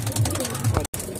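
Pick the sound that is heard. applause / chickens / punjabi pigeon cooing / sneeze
punjabi pigeon cooing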